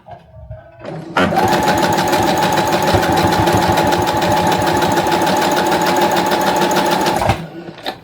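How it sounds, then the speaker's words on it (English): A sewing machine stitches across the end of an elastic strip for a book pencil holder, a loud, rapid, even mechanical rattle running for about six seconds after a brief lead-in, then stopping abruptly. "So we're going to sew across just the end for the elastic."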